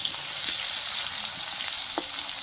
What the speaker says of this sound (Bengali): নুন দিয়ে আলুটা ভাজা ভাজা হাফ পজিশন সেদ্ধ হয়ে যাবে